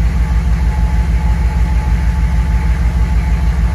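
A diesel truck engine idles steadily while warming up, with an air-related fuel injection pump fault; a continuous close low rumble with an even pulsing rhythm runs throughout, no voices.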